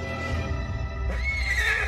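A neigh from a two-horned, horse-like beast called a Bicorn rises into a loud, shrill whinny near the end, over a low rumbling background.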